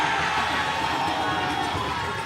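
A debate audience reacting with a continuous, loud crowd roar of cheering and clapping, with voices mixed into the noise.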